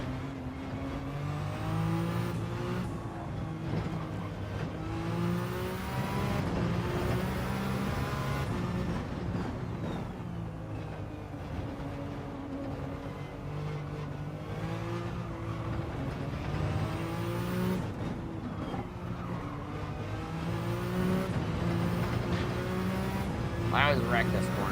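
A race car engine in a sim racing game drones and revs steadily, rising and falling with gear changes throughout, with some talk over it.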